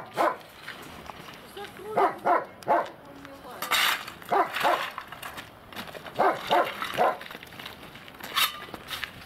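A dog barks outdoors in a yard, repeated loud barks in short bursts close by, interleaved with a person talking throughout.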